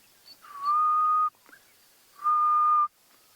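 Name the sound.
grey-headed bushshrike call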